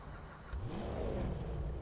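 A Lampadati Novak's engine in Grand Theft Auto Online revs up with a rising, rumbling roar, loud and continuous over a steady low hum.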